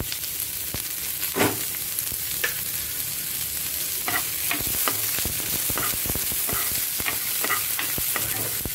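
Chopped onion and green chili frying in a pan for quinoa khichdi with boiled vegetables, a steady close sizzle broken by repeated scraping spoon strokes while stirring, no voices.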